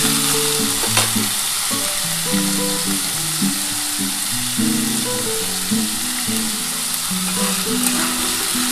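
Potatoes frying in a pan for an okra, potato and poppy-seed dish, a steady close sizzle with frequent clinks and scrapes of stirring throughout, no voices.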